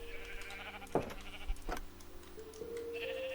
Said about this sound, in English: the farms with all the sheep